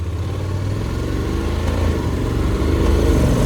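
Honda X-ADV 750 scooter in standard mode, engine droning loudly and steadily close by as it accelerates, with the pitch rising slowly through the gears.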